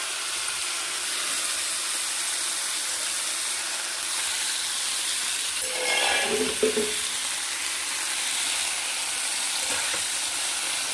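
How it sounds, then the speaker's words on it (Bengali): Crushed figs and browned potatoes fry together in a pan, a steady oil sizzle and hiss running throughout, with a brief burst of stirring and spattering near the middle. "থেতো করা ডুমুরগুলো আলুর সঙ্গেই দিয়ে দিলাম। একটু ভালো করে ভেজে নেব।"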